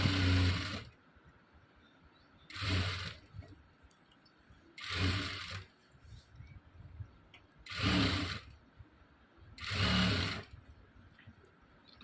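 A sewing machine stitches a prince cut blouse in five even bursts of rapid whirring, each about a second long, with quiet pauses between them.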